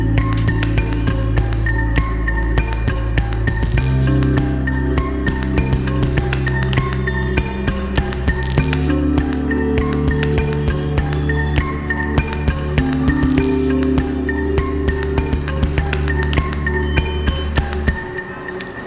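A Maschine pattern played with the Xylophone Homemade sound from the Kinetic Treats library, loud, bright pitched mallet-like notes over low sustained tones, with the low parts shifting every few seconds and a rhythmic, looping feel throughout.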